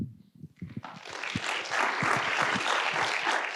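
Audience applause swells after a lecture on reshaping government and the Constitution, beginning with a few scattered claps and building to a full, steady round from a large crowd.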